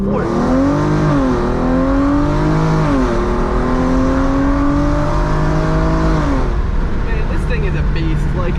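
A 370hp Hyundai Genesis Coupe with a 3.8 V6 is floored from about 4,000 rpm. The engine drones loud and steady and climbs in pitch through gear changes, then eases off near the end.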